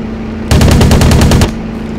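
Rapid machine gun burst fired at an anti-aircraft flak position in the WW2 Online combat game, about ten sharp evenly spaced shots in one loud second-long volley over a steady engine drone.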